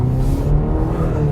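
A 2021 Cadillac CT5 Premium Luxury sedan with a four-cylinder engine, heard from inside while cruising, giving a loud, steady low engine hum and road rumble without a clear rise in revs.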